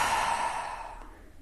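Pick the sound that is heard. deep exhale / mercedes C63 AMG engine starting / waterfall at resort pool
deep exhale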